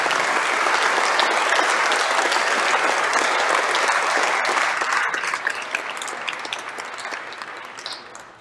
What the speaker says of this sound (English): Let's have a round of applause for these guys.